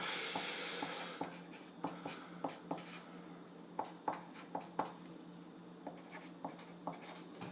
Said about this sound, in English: I'm just going to write, actually I'll just put you down here